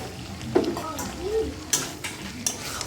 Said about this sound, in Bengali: এবার ভালো করে আরও কষাবো